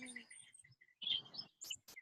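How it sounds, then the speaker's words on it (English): Pet birds in a room chirp and tweet in short bright calls, some sharp and loud, others faint and scattered, fairly close, with no talking over them. "You have very nice birds."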